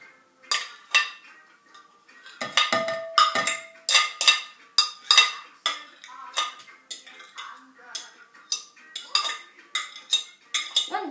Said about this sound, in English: you get a bowl and scrape the banana in